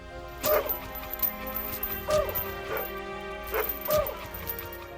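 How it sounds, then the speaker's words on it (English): A dog barks three times at roughly even intervals, close and fairly loud, with quiet background between barks; used as a wolf in a video game. "I even had a recording of my dog barking from a previous sound design project"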